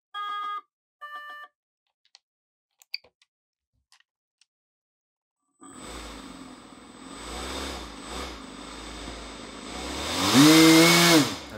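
A 3D printed turbo jet fan on an RC electronic speed controller emits a few beeps, then whines up from silence into a rising, loud high-pitched spin with a strong surge near the end.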